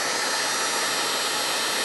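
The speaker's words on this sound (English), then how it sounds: "So I'll just use a heat gun." A heat gun blows steadily while shrinking heat shrink tubing over a bullet connector for a drone ESC, a close, loud, continuous airy roar with no pauses.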